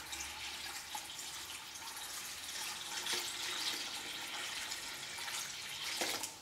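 Water pours steadily into an electric pot for home beer brewing, a continuous soft splashing hiss at moderate distance, fairly quiet and without voices.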